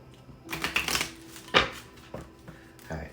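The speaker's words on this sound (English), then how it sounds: "We'll do one more shuffle." Tarot cards are shuffled by hand in a few quick riffling bursts with short pauses between, close and crisp, with no talking.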